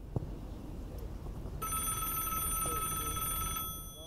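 An old-style telephone bell starts ringing partway through, a sustained bright trill lasting about two seconds over a steady background hiss before cutting off.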